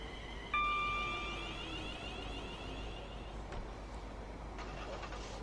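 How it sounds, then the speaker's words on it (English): Car engine starting in the Train Sim World 5 video game, a single abrupt start that settles into a steady hum, with a high electronic tone running alongside it and fading away. "I'd say the car's starting up then."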